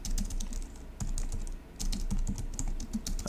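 Continuous close-up typing of code on a computer keyboard, with dense bursts of key clicks broken by brief pauses, over a steady low hum.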